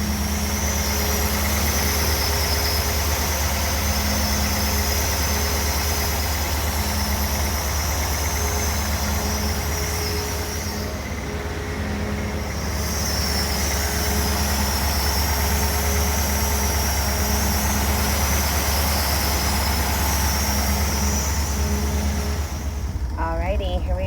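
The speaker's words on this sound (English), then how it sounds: "Up next, I'm gonna get that engine started." A 1956 Ford Thunderbird engine idling steadily after a cold start with a low, even rumble and faint mechanical hum, continuous and close throughout.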